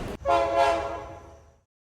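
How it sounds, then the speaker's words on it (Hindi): A train horn sounds once after a sharp click, a single sustained tonal blast that swells briefly and then fades out, set in an eerie, deserted railway station scene. "उसने भी ट्रेन की सीटी सुनी।"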